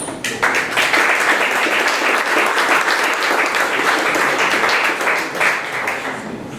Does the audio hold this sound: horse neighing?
no